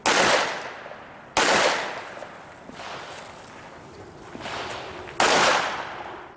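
Gunshots at an IDPA pistol match at an outdoor range, three loud sharp reports spaced well apart, each trailing off in a rolling echo with quieter background between.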